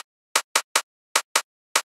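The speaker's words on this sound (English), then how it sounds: "The only thing that was missing for me was a clicky sound," A clicky sample in an electronic dance remix: six sharp, bright clicks in an uneven rhythm, dry and close, standing alone without other sounds.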